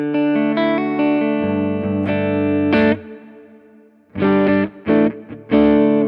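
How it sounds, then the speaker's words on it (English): Electric guitar chords through a Tone Master Pro modulated large hall reverb ring out wide and shimmering with gentle wavering movement, then a pause and several short, bright strummed bursts. "This has a modulated large hall reverb"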